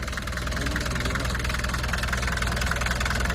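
A car engine running steadily up close, with a low, constant idling rumble and a rhythmic knocking texture, without any marked revving.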